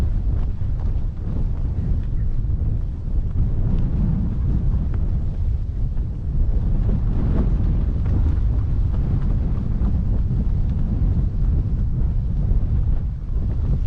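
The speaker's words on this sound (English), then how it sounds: "I suppose you can hear the wind is pretty strong this morning." Strong morning wind outdoors buffeting the microphone, a dense, continuous low roar with gusty surges that lasts throughout, with no voices.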